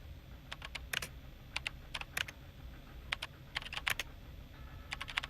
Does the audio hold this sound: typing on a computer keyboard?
yes